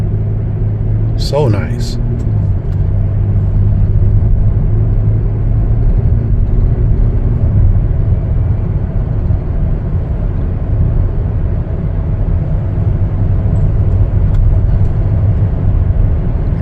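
A 2022 Chevy Traverse RS SUV with a 6-cylinder engine accelerating on the road, a steady low rumble of engine and road noise heard from inside the cabin, with brief speech near the start.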